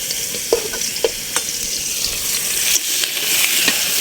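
Tilapia fish sizzle and fry in hot oil, a loud steady crackle with occasional sharp pops and stirring clicks, close up and with no talking.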